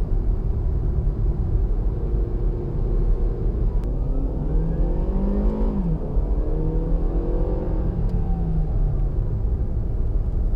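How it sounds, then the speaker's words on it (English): A 2017 Toyota RAV4 LE with all-wheel drive accelerates from inside the cabin, its engine note rising steadily and dropping briefly at a shift before climbing again over a constant road rumble. "this car gets up to speed"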